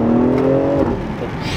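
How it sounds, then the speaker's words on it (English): A BMW X3 M Competition engine roars close by, its pitch climbing steadily during a hard launch before the note breaks off into a rougher rumble. "I got to do one more launch."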